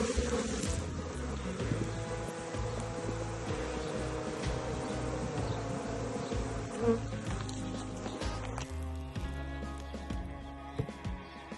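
Dense, loud, continuous buzzing of honeybees robbing and fighting at a hive entrance fitted with a reducer. The swarming drone never lets up, with no voices.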